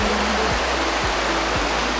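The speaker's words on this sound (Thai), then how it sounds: "อนนี้ปลายน้ำตกนะคะ" Constant rushing roar of Taranaki Falls in New Zealand's Tongariro area, steady and close, with a faint repeating low thump beneath the continuous spray.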